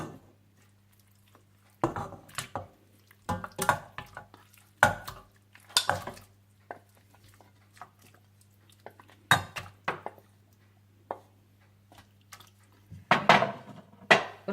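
Meat being stirred and mixed with ground ginger, garlic and salt in a pot for Afghani pulao, with repeated close scraping and clinking spoon strokes in irregular bursts separated by quiet pauses.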